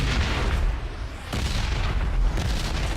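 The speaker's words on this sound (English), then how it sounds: "Oh, here come the bombs." Bombs dropping in a raid zone in PUBG, heard as a continuous heavy rumble of explosions with dense low booms running throughout, loud and near, no talk.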